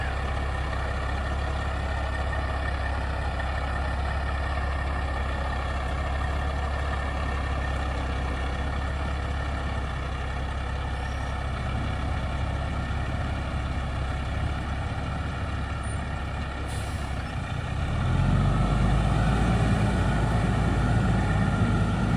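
A truck carrying a load of firewood maneuvers and reverses, its heavy diesel engine rumbling steadily and close, then revving louder and deeper toward the end, with no speech.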